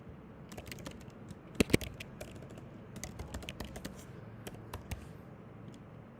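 Computer keyboard typing while a form is filled in, a quiet, steady stream of close key taps in irregular bursts with a couple of louder clacks and no talking.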